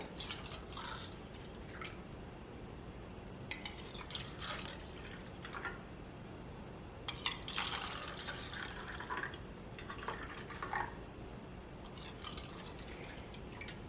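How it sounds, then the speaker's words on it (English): Water poured from a pitcher into cups, filling each about halfway, as a series of trickling, dripping pours with short pauses between them, moderately close and with no voices. "We're going to use the pitcher to fill cups 1, 3, 5, and 7, and we're going to fill them about halfway."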